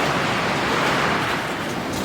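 Storm wind and heavy rain lashing the side of a shop in southwestern Pennsylvania, a dense, continuous broadband roar with no breaks, moderately loud throughout.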